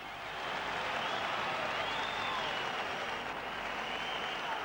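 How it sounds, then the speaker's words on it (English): Wembley crowd at a heavyweight boxing night for Frank Bruno against Ken Lakusta, a broad steady roar of distant yelling and applause from a large arena audience, sustained and even for several seconds. "the Wembley crowd were yelling for him all the way to the ring"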